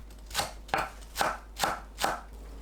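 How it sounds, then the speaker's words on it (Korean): A knife chopping green onions in five evenly spaced, crisp strokes, close and distinct, each with a short ringing tail, and no talking. "파를 썰어줍니다"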